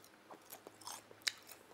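Crispy fried chicken skin being bitten and chewed, eaten by hand. Close, sharp crunches come in a few short bursts, with one loud crackle near the end and no talking.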